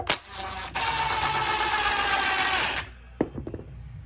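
A power driver with a star bit drives screws into pre-drilled wooden nativity manger parts, a close steady whirring buzz for about two seconds, then a few light clicks and handling sounds.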